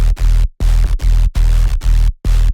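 A purely subby sine-wave sub bass layer sits under a track and pulses in six loud, sustained low notes separated by short gaps.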